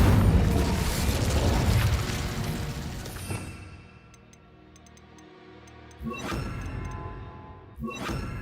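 The Incendio fire spell cast in Hogwarts Legacy: a roaring burst of flame fades into quiet ticking, followed by two sharp, explosive impacts near the end.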